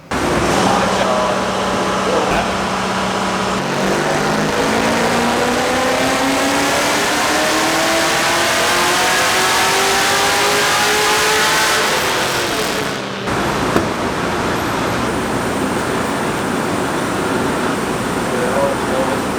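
A built LS1 V8 swapped into an E36 M3 roars on a dyno, pitch climbing steadily through a long pull before cutting off, then settling into a loud rumbling idle.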